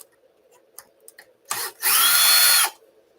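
A power drill driving out screws from the top cover of a UDR on a workbench, with a brief whir, a pause, then a longer loud sustained run of nearly a second, alone without speech.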